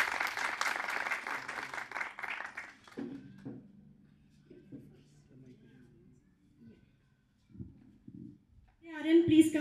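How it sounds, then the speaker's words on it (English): Audience applause at a senior KG graduation ceremony in a junior school hall: a few seconds of dense, steady clapping from a crowd, which fades out as a voice begins talking over a quiet room. "Please clap for them."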